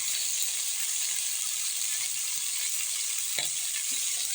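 Drumstick pieces fry lightly with salt and turmeric in a wok. A soft, even sizzle carries on throughout, with a few faint clicks of stirring.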